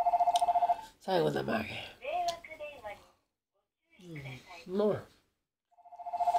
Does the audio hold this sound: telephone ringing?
yes